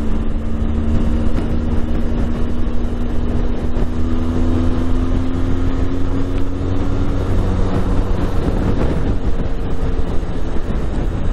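Steady loud engine drone with a slowly rising tone from a Benelli TRK motorcycle accelerating to overtake on a Scottish road, heavy wind rush throughout and no pauses.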